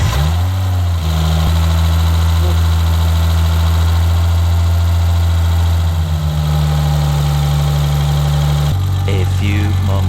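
A BMW E30 engine with programmable K-DATA management runs at a steady idle, a constant low rumble that holds evenly throughout, with a slight shift in tone near the end.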